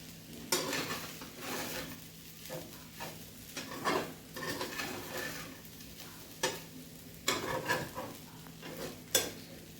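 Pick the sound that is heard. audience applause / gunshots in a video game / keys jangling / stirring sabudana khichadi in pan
stirring sabudana khichadi in pan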